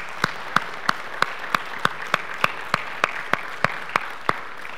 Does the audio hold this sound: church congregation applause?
yes